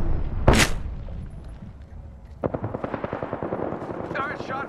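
Gunfire in the video game Apex Legends: a sharp loud shot, then a rapid automatic burst of shots rattling on steadily, with voices talking over the action.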